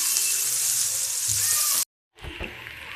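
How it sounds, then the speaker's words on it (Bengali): Onions frying in oil in a pan for cabbage bhaji, a steady bright sizzle close up, broken by a brief silence before a softer sizzle with light stirring resumes. "তো পেঁয়াজটা ভাজা হয়ে গেছে"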